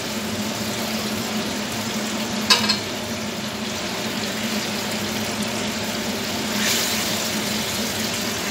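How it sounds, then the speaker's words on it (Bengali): Pomfret fish frying in hot mustard oil for sarshe posto pomfret jhal: a loud, steady close-up sizzle throughout, with a brief clatter early on and a slight swell in the hiss near the end. "এবার আমি এতে মাছগুলো দিয়ে দেবো।"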